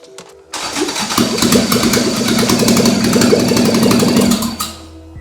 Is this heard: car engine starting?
yes